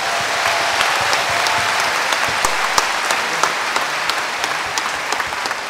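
Steady applause from a large crowd at a tenth-anniversary gathering in Bucharest, dense and continuous clapping filling the room for several seconds with no talking.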